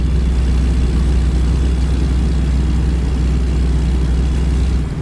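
In the game American Truck Simulator, a heavy truck drives with the windows rolled down, giving a loud, steady low engine drone with road rumble that continues unbroken, with no talk.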